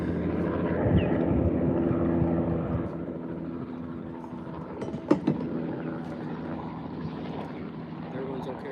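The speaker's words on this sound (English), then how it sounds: "Hospital helicopter." A hospital helicopter flies past at a distance, its engine and rotor making a steady, fairly faint drone, with a brief knock partway through.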